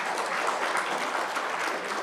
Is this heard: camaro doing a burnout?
no